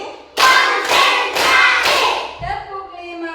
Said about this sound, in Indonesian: Tepuk 1 kali. Tepuk 2 kali. Tepuk 3 kali. Tepuk 4 kali.